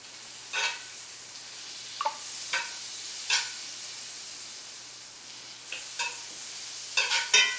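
Soft, continuous sizzle with a faint hiss of butter in a hot cast iron pan, broken by several short scraping bursts of a utensil moving in the pan, no talking.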